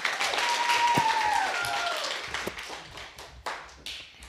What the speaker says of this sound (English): All right, let's give another round of applause for Damion.